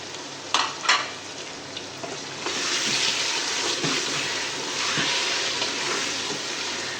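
Chicken pieces dropped into a hot pan for chicken with bottle gourd, a couple of thuds and clatters first, then a strong steady sizzle of frying that swells and holds, close up with no talking.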